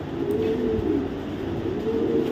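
A black checker Maxi Racer hen pigeon gives soft, low cooing near a loft, a continuous murmur that stays steady throughout and carries no speech.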